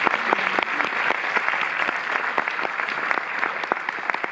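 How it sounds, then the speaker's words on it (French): An audience at the Cinémathèque française in Paris applauds during a film presentation, a steady, dense clapping that carries on throughout without a break. "Vous pouvez aussi applaudir Chanel."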